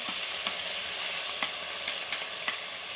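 Tomato paste sizzles as it hits hot frying spices for chicken kofta curry, a steady close hiss with faint stirring clicks throughout.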